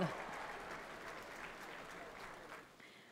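Loud, steady applause from an audience welcoming a singer at the Voice of Punjab Season 5 grand finale, a dense wash of clapping that holds for the whole stretch and eases slightly near the end.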